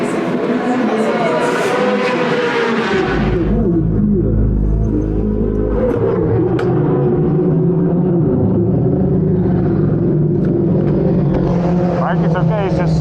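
Motorcycle onboard lap at the Paul Ricard circuit during the Bol d'Or, with a loud, steady engine drone and heavy wind buffeting into a helmet-mounted camera. A deep low rumble swells midway as the revs and pitch shift continuously.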